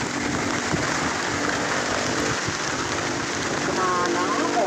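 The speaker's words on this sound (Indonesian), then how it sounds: "Hujannya lebat sekali." Heavy rain pours down in a dense, steady hiss of drops on surfaces, loud and continuous throughout, with no speech.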